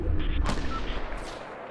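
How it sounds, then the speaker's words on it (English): Enemy gunfire in a video game sounds as a heavy low rumble of shots up front, then two sharper distant cracks over a muffled background. "No, they're shooting at me."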